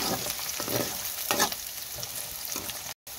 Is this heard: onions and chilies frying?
yes